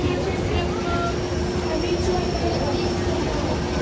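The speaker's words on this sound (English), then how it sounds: "Okay, so we're finally going to get on the monorail." A Disneyland monorail train rumbles steadily with a constant drone and faint high whine, heard from inside the car as a continuous wash of noise.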